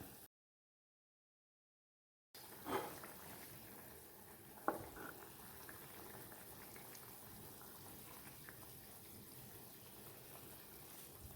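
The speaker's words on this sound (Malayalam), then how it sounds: "അരപ്പെല്ലാം നല്ലതായിട്ട് തിളച്ചിട്ടുണ്ട്" A pot of fish curry gravy bubbles on the stove, a soft steady simmer broken by a couple of louder pops after a brief silence at the start.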